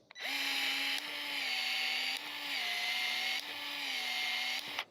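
A PEX expansion tool whirs steadily as it expands a pipe end and collar for a spigot plumbing connection, a loud continuous motorized drone held for nearly five seconds with brief dips between pulses.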